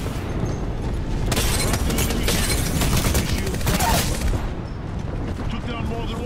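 Enemy gunfire in Apex Legends, a dense sustained volley of rapid shots and booming impacts over constant battle noise, loudest in the middle and tapering toward the end.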